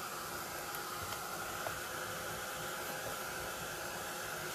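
Heat gun blowing over shimmer powder on craft card: a steady, even hiss of rushing air held at constant level throughout, close and fairly quiet, with no talking.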